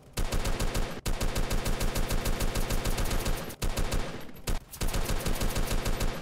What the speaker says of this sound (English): We've got two people shooting it.